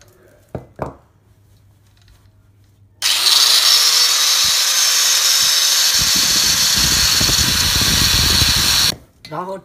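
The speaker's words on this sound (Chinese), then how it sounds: "我们用这个切割机把这个都给切下来。" A handheld cutting machine bites into a scrap copper electric motor, a loud, continuous grinding screech lasting several seconds, close up, with faint clicks and handling noise before and after.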